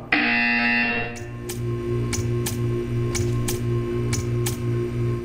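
A harsh electronic buzzer in the video game Portal 2 blares for about a second, followed by a run of sharp, evenly spaced mechanical clicks over a low steady hum.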